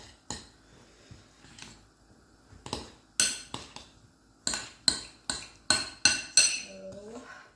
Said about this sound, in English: I am just going to use a large metal spoon, and go ahead and combine that